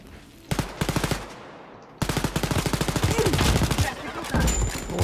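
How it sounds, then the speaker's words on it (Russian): Rapid bursts of enemy automatic gunfire in a Wolfenstein Youngblood firefight, sharp repeated shots in two close, loud volleys with a brief cut between, dense and rhythmic. "Оба она по мне стреляет"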